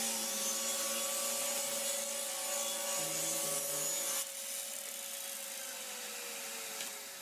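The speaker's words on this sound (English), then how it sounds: "let's get into some test cuts so you can see how this saw really performs." A Delta 36-725 table saw makes test cuts in wood: a steady motor whine and hum with a rasping cut, shifting briefly partway through and easing off toward the end. No one speaks.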